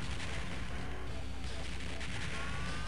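Rocket launcher firing repeatedly in the Neo Geo arcade game Shock Troopers, a dense, loud continuous barrage of blasts and explosions filling the whole stretch.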